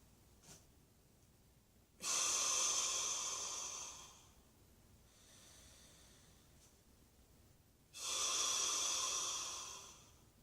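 Two long, loud breaths pass close to the microphone during a quad stretch, each one a rushing hiss lasting about two seconds. A softer, quieter breath falls between them, and no one speaks.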